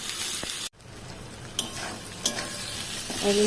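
Mango pieces fry and get stirred in a pan with spices and tomato for a country chicken curry, a loud continuous sizzle broken by a brief cut, with scattered spatula scrapes and knocks nearby.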